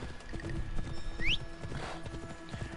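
Horse hooves clip-clop in a steady, brisk rhythm as a horse sets off in Assassin's Creed Odyssey, with a short whinny-like squeal partway through over faint game ambience.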